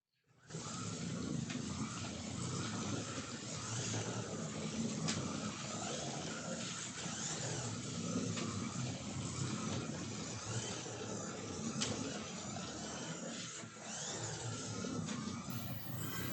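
A scale slot car runs laps around a built model track, a steady continuous whirring with a slight high-pitched whine, fairly even in loudness and uninterrupted throughout.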